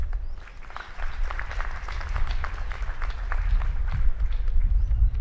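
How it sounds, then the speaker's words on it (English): Audience applause at a university convocation, a broad steady wash of many hands clapping in a large hall with a low rumble underneath, holding at an even level throughout. "A round of applause, please."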